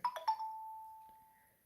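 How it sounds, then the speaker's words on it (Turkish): A phone's notification chime arrives on an Android device as it joins a shared Wi-Fi network: a few quick tones ring in succession, then one long, clear note lingers and slowly fades, fairly faint and alone. "birkaç bildirim geldi bana"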